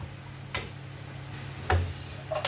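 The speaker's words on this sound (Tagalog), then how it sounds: "Gisahin natin yung luya para mapusta" Ginger sautéing in a little oil in a hot wok, with a soft continuous sizzle broken by three sharp stirring scrapes.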